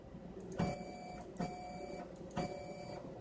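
A 3D printer's motor feeding filament through the extruder at speed 1000 with the nozzle removed, a steady low mechanical whir with a faint high whine and a few brief louder clicks, no talk.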